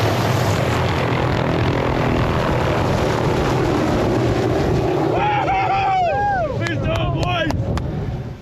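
A small propeller aircraft coming in to land at a remote mountain hunting camp: a loud, continuous engine drone mixed with wind buffeting the microphone, and a voice speaking over it toward the end.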